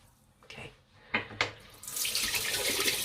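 A tap runs into a sink while someone rinses their face with lukewarm water. A few short splashes come first, then a steady close stream of running water.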